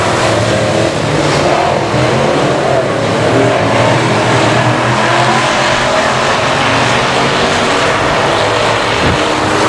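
Race cars roar at a green flag start at I-37 Speedway, a dense, loud, continuous wall of engine noise from the pack accelerating together, with revving layered throughout.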